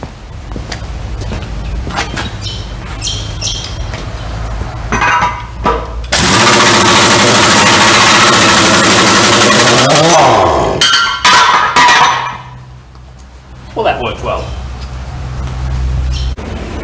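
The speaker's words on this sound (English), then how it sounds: "we've done everything with this rattle gun except actually use it" A rattle gun (impact wrench) runs in a loud sustained burst of about four seconds, then cuts off and gives a couple of short trailing bursts, in a workshop where a JD 3140 tractor is being worked on.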